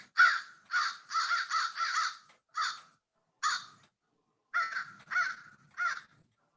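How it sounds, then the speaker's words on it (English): A crow calls outdoors with a run of loud, harsh caws, several in quick succession and then more spaced out after a short gap, each one clear and fairly close against quiet surroundings. "if you hear a bunch of crows making a loud noise"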